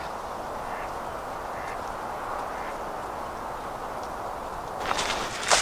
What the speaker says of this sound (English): They sound like mallards.